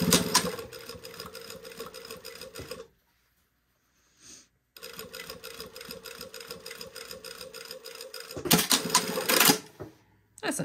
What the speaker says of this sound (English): would just go ahead and sew up that side seam